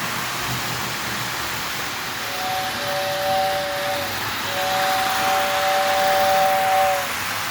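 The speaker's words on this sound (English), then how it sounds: "Nice whistle on it." Lionel S2 steam turbine model locomotive pulling a five-car train sounds its whistle in two sustained blasts, a short one then a longer one, over steady running noise and hiss.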